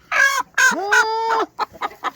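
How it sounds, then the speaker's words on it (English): A broody hen gives a few loud, close clucks and one drawn-out complaining cackle, then several shorter, quieter clucks, with no other sound around. "This is a broody hen."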